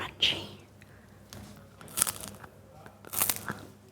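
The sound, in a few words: crunchy food being bitten and chewed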